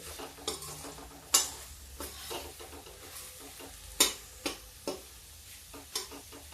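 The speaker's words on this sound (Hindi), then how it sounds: "थोड़ा मसाला देर तक भूनना है।" Masala being stir-fried for a turnip and pea curry, a steady low sizzle broken by sharp, irregular scrapes and taps of a spoon against the pan, close up with no talking.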